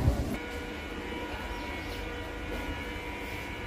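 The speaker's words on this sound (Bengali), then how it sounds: "ঠিক সময় 6:50-এ ট্রেন ছাড়ল।" Ranaghat-Krishnanagar local train pulling away from a platform at Ranaghat Junction, a steady low rolling rumble with a faint tonal hum and a brief louder knock at the start, no speech.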